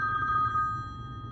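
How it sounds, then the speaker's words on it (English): A cell phone call rings out at a desert trailhead, a single steady electronic ringback tone heard close and clear before it fades, with no talking. "So I'm gonna see if I can get a cell signal and make a phone call."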